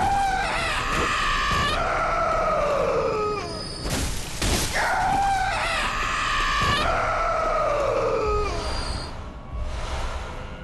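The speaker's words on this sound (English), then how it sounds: "stereotypical scream for a witch" A witch enemy in the video game Bloodborne lets out repeated shrill, wavering screams, several drawn-out shrieks with harsh bursts of combat noise in between, loud and close.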